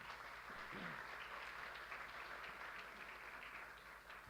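Audience applause at a sports industry conference in Paris, a steady wash of clapping from a large crowd that holds at an even level throughout with no voices over it.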